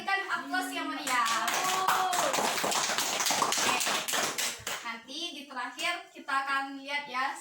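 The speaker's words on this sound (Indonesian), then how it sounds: "Kita berikan aplaus yang meriah" Children in a classroom clap in a burst of rapid, dense applause that lasts a few seconds and then thins into scattered claps, with children's voices and a teacher talking before and after.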